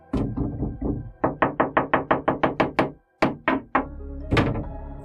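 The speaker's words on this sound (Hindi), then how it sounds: "वहां से कोई 3 इंसान लगातार दरवाजे खटखटा रहे हैं।" Repeated knocking on a door, fast runs of firm knocks in several bursts with a brief pause between groups, close and loud, with no talk.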